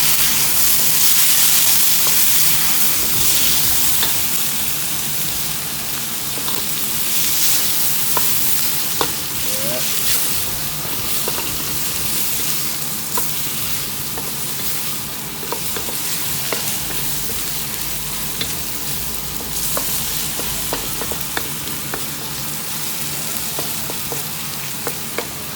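Wet hawker-style rice noodles stir-fry in a wok with a loud, continuous sizzle and intermittent metallic scrapes and clicks from tossing, heard close up over a long stretch with no talk.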